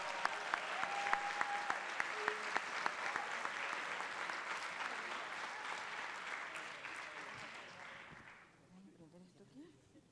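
Audience applauding at a panel session of the Plan País 2019 conference, steady clapping with a few sharp individual claps, fading out after about eight seconds into near quiet.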